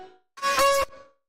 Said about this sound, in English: I added these glitch voice sounds, which by itself sound like this